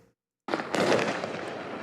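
Fireworks going off over Oakland, California, a loud dense barrage of bursts and crackling that starts abruptly after a brief silence and continues without pause, no talk.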